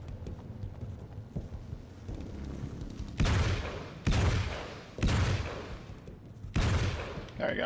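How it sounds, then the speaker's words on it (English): Loud, sharp blasts ring out in Alan Wake's American Nightmare, roughly four bursts about a second apart, each decaying quickly, following softer rumbling game noise. "Flashbang."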